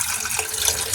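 Cold tap water pours steadily into a jar for sweet potato slips, a close, bright, continuous splashing hiss with no voices.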